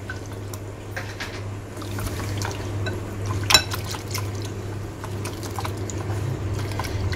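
Maida flour batter for shawarma crepes is mixed by hand, giving soft wet stirring and light tapping clicks against the bowl, one sharper knock near the middle, over a constant low hum.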